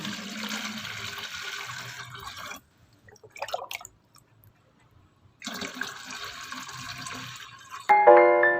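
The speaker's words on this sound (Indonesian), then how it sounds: "Siram sampai airnya keluar dari lubang pot." Water pouring onto soil in a pot, a steady splashing stream that stops, a few drips, then pours again, ending with a brighter trickle.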